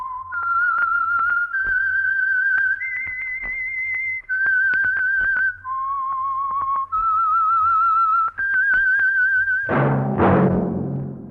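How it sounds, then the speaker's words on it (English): Whistled theme signal of The Whistler radio program, a lone, clear melodic tune of sustained notes that step up and down, followed by a short burst of orchestral sound at the end. "That whistle is your signal for the Signal Oil program, The Whistler."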